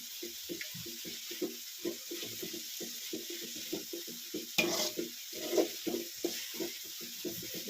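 Chopped onion frying in oil for an avarekalu and methi upma, with a soft, quiet sizzle beneath repeated scraping strokes of a spoon against the pan in an uneven rhythm, a couple of them louder clatters.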